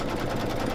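Embroidery machine taking small stitches, a brief close continuous buzzing whir with a fast, even rhythm.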